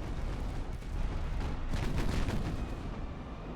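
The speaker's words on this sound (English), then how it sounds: "Where'd that torpedo come from?" A torpedo strikes a warship in the naval game Ultimate Admiral: Dreadnoughts, a loud, sustained rumbling explosion with crackling bursts swelling midway and lingering without speech.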